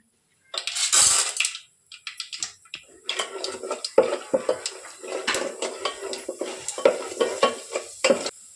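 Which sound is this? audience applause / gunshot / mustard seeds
mustard seeds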